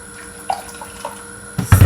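Water poured from a tap into a pot of seasoned rice, faint drips and small splashes early on, then a loud, full gush of running water near the end.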